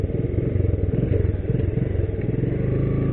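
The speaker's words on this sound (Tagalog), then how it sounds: "Lakas naman ng truck na yan." A loud truck passes close by on a road, its heavy rumbling mechanical drone steady and throbbing throughout.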